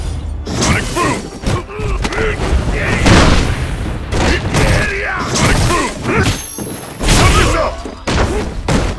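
Guile's Sonic Boom projectile attacks in a Street Fighter V match, loud whooshing booms repeating among punches, thuds and a shouted announcer-style call of the move, all packed densely together.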